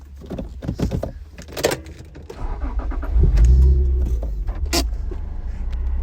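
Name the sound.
1996 Acura NSX-T engine starting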